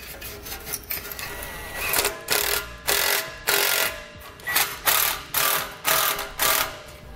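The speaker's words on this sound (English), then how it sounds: "Using a 5/16 bit driver socket." A 5/16 driver socket on a power driver tightens an exhaust clamp onto a mounting tab for air helper springs, giving about ten short, evenly spaced ratcheting bursts, loud and close, with no talk over them.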